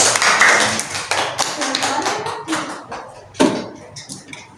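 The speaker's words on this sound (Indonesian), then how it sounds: "Saya tepuk tangan dulu dong buat semangat." A few sharp hand claps in a classroom setting, given as encouragement to a student about to read, irregular and close, with some background movement and faint voices between them.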